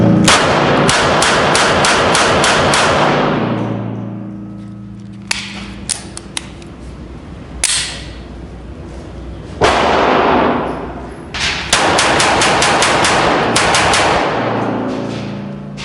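Sharp, loud gunshots from a Springfield Armory Hellcat .380 pocket pistol with a built-in compensator, fired in rapid strings of several shots, then isolated cracks and another quick burst outdoors.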